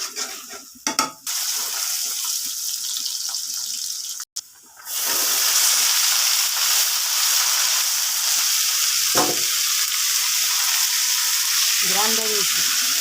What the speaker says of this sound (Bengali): এই যে কচুর এই অবস্থা হয়েছে, বোঝা গেছে ঝরঝরা ভাজি হবে।